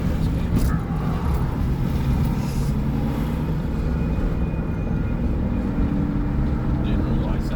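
A freight train rolls past nearby, its cars, including refrigerator cars, making a steady rumbling roar with rattling and clanking, continuous and fairly loud throughout.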